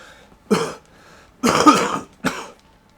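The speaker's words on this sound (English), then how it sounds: "Sorry about all the coughing" Three separate coughs, close and fairly loud, with short pauses between them.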